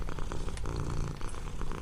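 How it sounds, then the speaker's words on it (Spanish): A cat purring as it rests in front of a fire, a steady low rumbling purr close by with a soft crackle, no talking. "aquel que descansa ronroneando frente al fuego"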